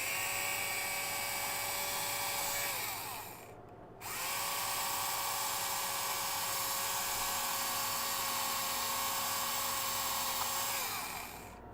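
A small Tamiya toy drill motor runs with a high, steady whine. It stops briefly near four seconds, then spins back up and holds a constant pitch almost to the end, with no talk over it.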